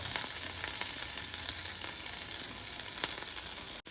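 Mustard seeds, urad dal and chana dal crackle and sizzle steadily in hot oil as they are stirred for a tempering, a dense continuous fry with faint scraping, ending in a brief sharp drop.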